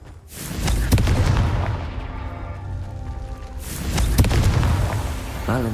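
Two heavy, booming blasts from the Confringo blasting curse in the Hogwarts Legacy video game, each a loud low rumble that slowly decays, separated by a brief lull, with faint game sounds between them.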